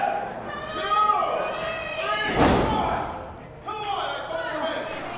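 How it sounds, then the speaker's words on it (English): A wrestler's head is slammed into the mat during an independent wrestling match, one loud thudding slam midway through with crowd chatter and commentary running underneath. "grabbing the man's head and slamming it into the mat"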